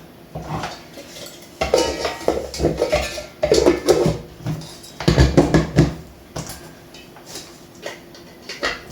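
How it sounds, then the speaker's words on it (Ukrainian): A knife cuts a piece of hot pepper on a hard board, giving a run of sharp clacks and taps in uneven bursts with scraping in between, close and fairly loud, with no one speaking. "кусочок гіркого перця відріжу"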